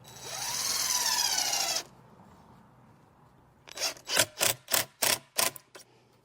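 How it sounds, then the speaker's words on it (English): A power drill bores pilot holes into timber for a DIY cornhole board. One sustained whirring run rises in pitch, then after a quiet gap come about six short, rapid, evenly spaced bursts, all close and clear. "Let's just put some pilot holes in, so they don't split the timber."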